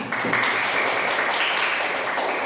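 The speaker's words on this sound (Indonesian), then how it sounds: "Ya, tepuk tangan." Students in a classroom clapping together, a short continuous burst of applause filling the room at a steady level.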